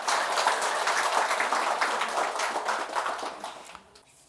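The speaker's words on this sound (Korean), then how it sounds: "박수 한번 치세요." Audience at a Buddhist sermon claps together in a dense, steady burst of many hands that holds for about four seconds before thinning and fading out at the end.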